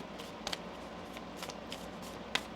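A deck of Moonology oracle cards being shuffled, a few soft riffling bursts close to the microphone over a faint background hiss.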